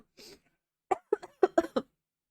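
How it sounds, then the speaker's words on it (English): One person coughs: a short, breathy throat sound comes first, then a quick run of five or six sharp, close coughs in about a second, followed by silence. "I just started coughing"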